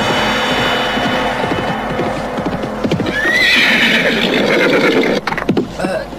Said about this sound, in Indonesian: Ada seseorang yang berkuda cepat menuju kita.